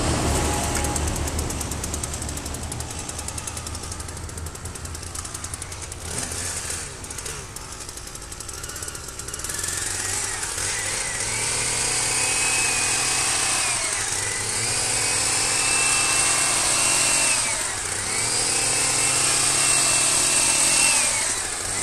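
An electric hedge trimmer buzzes loudly and steadily while cutting a hedge in short strokes, its pitch rising and falling as the blades bite, with a faint voice early on.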